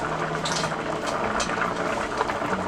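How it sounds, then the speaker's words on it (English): Creamy cheesy potato soup boils steadily in a pot, a dense, close bubbling and gurgling that continues evenly throughout without any talking. "So I'm going to continue to let this boil for about another 5 minutes"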